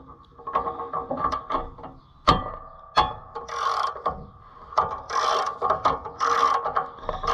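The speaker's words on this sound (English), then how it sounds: "I'm gonna do this by hand so I don't twist anything off, using our ratchet from a viewer, extendable." An extendable hand ratchet turns bolts on a planter during repair work, giving bursts of rapid clicking pawl ratchets with sharp metallic knocks in between, close and fairly quiet, with no talking.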